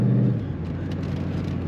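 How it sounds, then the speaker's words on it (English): A 1994 Chevrolet Corvette convertible with the top down gives off a deep, steady exhaust rumble, loudest at the start and then settling into a low, even drone while driving. "Kind of a unique rumble to this car. I like the exhaust note."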